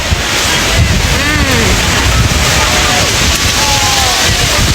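Strong wind buffets the microphone in continuous loud gusts near an Orthodox church in North Lebanon, with surf-like rumble and faint voices underneath.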